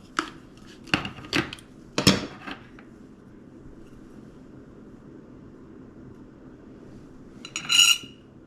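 Canned green chilies scraped out of a whole can into a bowl for Mexican cornbread, a few sharp metallic scrapes and knocks up close, then a quiet pause and one last clatter.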